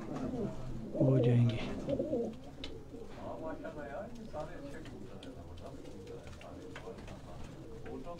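Caged breeder pigeons coo in soft rolling calls, with someone speaking loudly over them early on before the cooing continues in the background.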